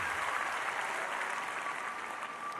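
A crowd applauds at a women's individual recurve para archery match with a dense, steady clapping that sustains at an even level for the whole stretch, no voices on top.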